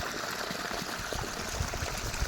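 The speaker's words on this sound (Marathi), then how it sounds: "शेतामध्ये पाणी सोडलंय" Water released into a sugarcane field runs in a steady, rushing flow heard close by, a continuous broadband wash with no talking.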